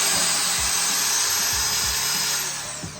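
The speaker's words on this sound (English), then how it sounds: "You do not need a power tool to do this" A power drill whirs continuously while stirring yeast into liquid malt extract beer wort during homebrewing, with a steady high whine and a few low knocks and bumps, easing slightly toward the end; no talking.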